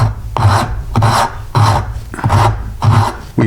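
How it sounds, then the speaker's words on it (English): A cabinetmaker's rasp shapes a piece of wood in loud, close, rhythmic strokes, five or six coarse rasping pushes spaced about half a second apart with short pauses between them. "And now we're just going to start rasping."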